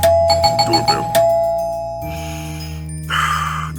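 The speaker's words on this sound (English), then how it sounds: "Ding dong. A little chime that rings out whenever someone comes to visit." Doorbell chime in the video game How To Date A Magical Girl, a bright electronic ding-dong with several ringing tones, followed by softer game music notes and a later chime, loud and with no voices.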